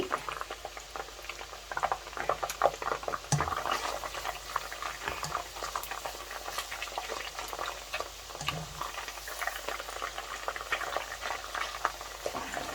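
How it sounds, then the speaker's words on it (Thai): Strips of fish frying in hot oil, a steady dense crackle and bubble with scattered pops and a few clacks from the pan, heard up close with no talk over it. "ทอดแบบนี้กับกรอบประมาณนี้"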